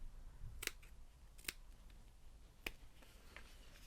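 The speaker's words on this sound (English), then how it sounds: "I'm then going to cut back on the diagonal on the corners" Sharp scissors snip the diagonal corners off a sewn fabric bag's seam allowance, giving three or four quiet, separate clicks of the blades close by in an otherwise still room.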